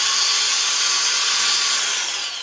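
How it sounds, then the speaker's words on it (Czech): A Makita DGA504Z cordless angle grinder runs with a loud, steady high-pitched whine, holding constant speed with no load and tapering slightly at the very end. "Když zapnu flexi"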